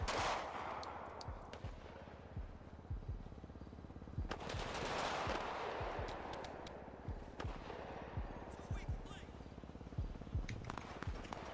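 Rapid bursts of automatic gunfire and single shots crackle through a Grand Theft Auto roleplay shootout, loud and sustained over a busy game mix, with voices talking throughout.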